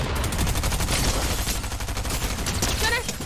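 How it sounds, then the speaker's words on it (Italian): Rapid gunfire crackles in a Fortnite match, dense bursts of machine-gun fire repeating loudly and close, with a voice talking partway through. "Sento spari, vedo spari."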